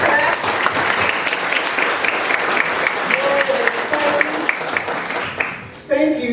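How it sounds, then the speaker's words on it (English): An audience at an evening tribute event applauds together, a dense, steady wash of clapping that holds evenly, then thins and breaks off near the end. "let's give ourselves a hand clap."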